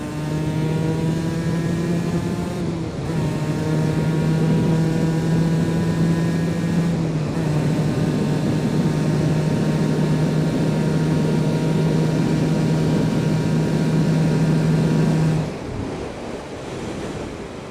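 Two-stroke Aprilia RS125 motorcycle engine at full throttle on a top speed run on a wet road, a loud steady high whine that climbs through gears with brief shift breaks, heavy wind roar throughout.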